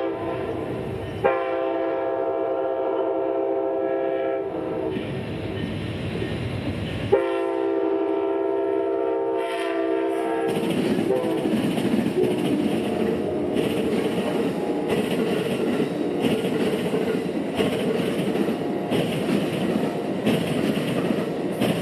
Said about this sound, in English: it would be Amtrak 92's turn to cross, with their Phase 1 Heritage Unit number 161 in the lead